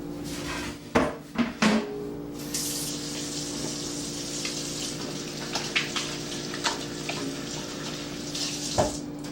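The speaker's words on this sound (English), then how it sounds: "let me just wash my hands one more time" Hands washed under a running kitchen tap, with a few clattering knocks at the start, then a steady spray of water with small splashes over a low hum, no voices.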